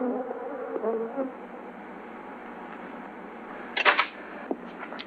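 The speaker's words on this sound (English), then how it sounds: "The Africanized bees attack when annoyed by color or sound." An angry swarm of Africanized bees drones in a continuous, dense buzz, with faint voices early on and a few louder close passes of individual insects near the end.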